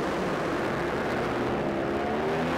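A drag racing car makes a storming run at Santa Pod Raceway, a loud, continuous, distant engine roar that swells slightly toward the end, heard alone without speech.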